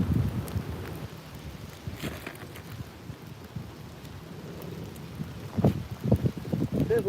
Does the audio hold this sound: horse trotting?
no